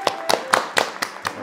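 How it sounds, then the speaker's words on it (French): A handful of slow, deliberate hand claps, six distinct sharp claps evenly spaced close to the microphone, performed by a small group or a single person rather than a crowd. "Applaudissements."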